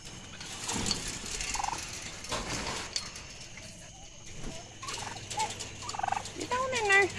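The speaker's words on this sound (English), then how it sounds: "We gotta get these turkeys in here." Turkeys gobble in repeated bursts at close range on a farm, with a person urging them along, hoof-like clopping and rustling farmyard movement.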